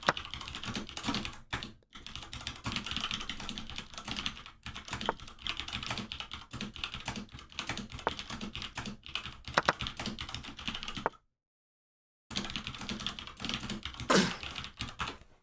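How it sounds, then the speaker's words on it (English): Rapid typing on a computer keyboard, close and steady with dense clattering keystrokes that run continuously, break off into silence near the end, then resume briefly. "Just typing about that issue too."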